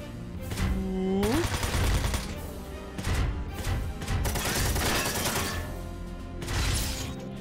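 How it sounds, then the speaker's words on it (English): A missile barrage and gunfire in the video game Front Mission 4 make a series of rapid sharp bursts and blasts in several clusters, with a brief rising whine early on. "Another barrage, nice."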